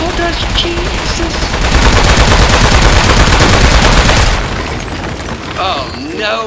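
Sustained rapid gunfire in the video game Aperture Desk Job, a dense loud burst lasting several seconds before cutting off, with electronic chirps and game sounds around it.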